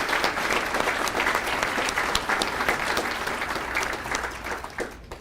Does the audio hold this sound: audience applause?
yes